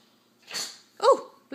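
A dog sneezes at close range, with quick snorting bursts of breath in succession and another one starting at the very end.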